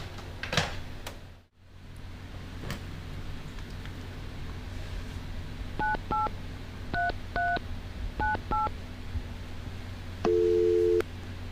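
A home landline telephone number is dialed by keypad, a series of short paired touch-tones in quick groups over steady line hiss, ending with a longer sustained tone, all close and clear with no talking.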